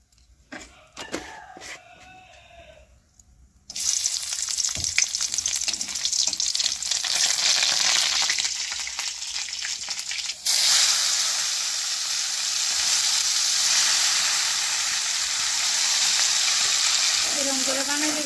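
Leafy greens dropped into hot oil with garlic and chilli paste, bursting into a loud, steady hiss of frying that holds for the rest of the clip after a few quiet handling knocks, with faint stirring beneath.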